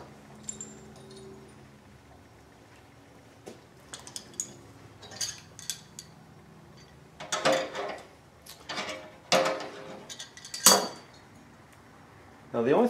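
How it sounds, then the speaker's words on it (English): Metal hinges being fitted into a Rockmen storage tailgate: scattered close metallic clinks and rattles, sparse at first, then louder clustered clanks in the second half, with a faint tone early on. "I'm going to insert the hinges to the tailgate"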